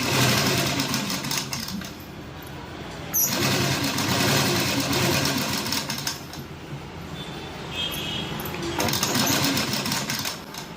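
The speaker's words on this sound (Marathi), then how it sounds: "खिशाला पूर्ण राऊंड म्हणजे जो शेप आहे त्याला शिलाई मारून घ्यायची" A sewing machine stitches around the curved side-seam pocket of a gown, whirring steadily up close. It pauses briefly and restarts a few times, with no talking.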